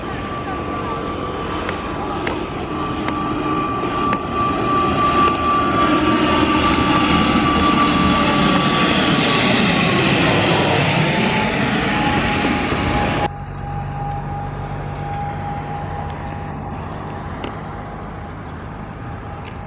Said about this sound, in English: it's a 9-year-old ATR 72600, operated by Olympic Air.